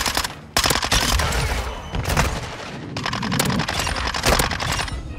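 A Minibak SMG fires in Modern Warfare 2, giving loud, sustained automatic bursts that run almost without a break and blend into dense rattling gunfire.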